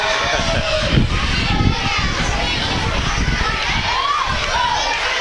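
A large crowd of schoolchildren at a university basketball game fills a gym with dense, continuous high-pitched chatter and shouting, loud and close, with a few whistle-like squeals rising above the roar.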